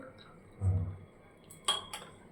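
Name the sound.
dishes clinking while straining and pouring tea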